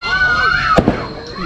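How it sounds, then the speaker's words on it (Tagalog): Fireworks go off at an outdoor event where a band is playing. A couple of sharp pops burst out against a steady background of crowd noise and voices. "May mga fireworks dun, oh."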